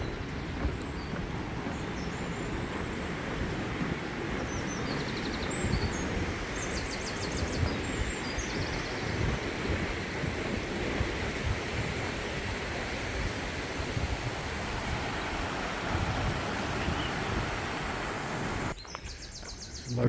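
A river flows steadily beside a walking trail, producing a broad, constant rushing wash with a few faint bird chirps above it, until a brief rustle near the end.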